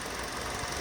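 A car engine idles steadily in an engine bay left running to dry after cleaning, a constant even rumble with no voices.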